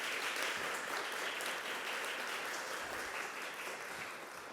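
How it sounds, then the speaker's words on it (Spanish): Seminar audience applauding together: a steady wash of many hands clapping in a room, moderately faint and even, slowly tapering off toward the end with no talking over it. "quiero que nos demos un gran aplauso"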